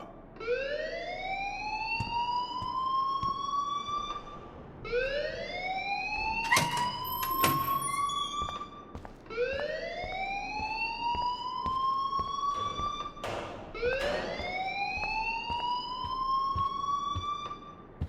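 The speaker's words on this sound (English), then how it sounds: "please turn off that alarm since that's your job" A fire alarm blares inside the Life is Strange video game, four long rising electronic sweeps repeating every few seconds, loud and continuous, with brief sharp clatters between cycles.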